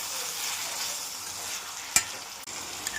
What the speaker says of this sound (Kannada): ಈಗ ಈ ಮಟನ್ನ ಈರುಳ್ಳಿ ಜೊತೆಗೆ ಸ್ವಲ್ಪ ಫ್ರೈ ಮಾಡೋಣ.